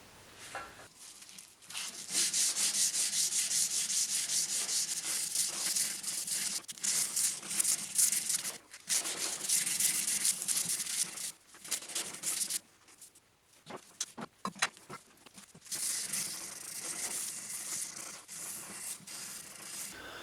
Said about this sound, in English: now it's time for some hand sanding